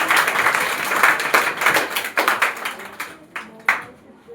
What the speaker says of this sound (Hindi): जोरदार तालियां बजाइए सब लोग